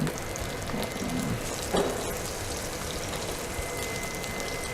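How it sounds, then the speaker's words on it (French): A grouper fillet sears in a frying pan with a dense, steady crackling sizzle like light rain, close and even, with a brief clatter midway. "Alors là, on est en train de saisir le filet de mérou."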